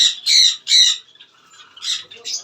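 Exotic birds at a bird farm giving loud, harsh squawks up close, three quick calls in a row followed by a pause and two more.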